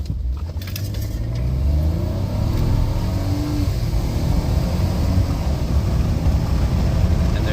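A 2018 Ford F-150 with the 2.7 engine and an aftermarket tune accelerates hard from 0 to 60 mph, a steady deep engine roar building from inside the cab over several seconds.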